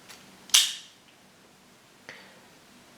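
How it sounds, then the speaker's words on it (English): A Ferrum Forge/Massdrop DAO folding knife flicked open by its deployment hole gives one crisp, close snap as the blade locks, followed later by a fainter click in an otherwise quiet room. "I have been able to open the knife flicking it with the deployment hole"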